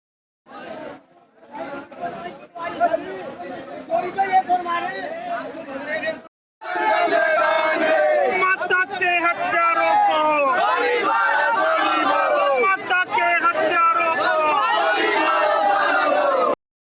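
An agitated crowd of villagers on a street, caught up in a chaotic commotion after setting fire to a vehicle. Many voices shout and chatter over each other, first in broken bursts, then in a continuous loud roar of babble.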